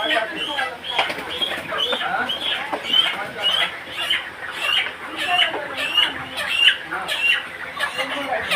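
Many chickens cluck and squawk continuously in a busy, agitated chorus as they are caught for transport, with occasional wing flaps and faint voices in the background.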